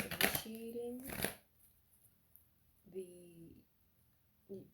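Tarot cards are shuffled in quick papery riffles near the start, followed by a quiet stretch broken by brief tonal voice-like sounds.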